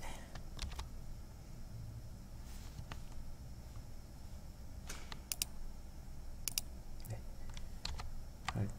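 Computer keyboard typing while someone builds a formatted table in a Korean word processor, heard as quiet scattered key clicks and a few sharper presses over low room hum.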